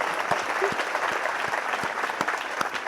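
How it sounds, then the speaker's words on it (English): An audience at a talk gives a round of applause, dense and continuous clapping from many people in the room with a few sharper individual claps rising above the wash. "I think she deserves a round of applause"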